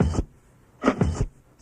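Turntable scratches on a hip-hop drum record, cutting a snare and bass drum sample into two short rhythmic bursts with a gap between them, loud and close with no talk.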